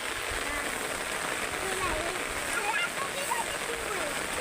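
Rain falls steadily on a rice paddy in a monsoon field, a dense continuous hiss and patter filling the scene, with a voice talking faintly over it.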